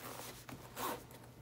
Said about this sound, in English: I'm gonna zip that up.